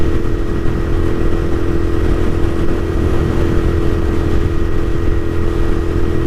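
Royal Enfield Continental GT650 twin motorcycle cruising at about 120 on the road, a loud, steady engine drone blended with constant rushing wind noise, no voices.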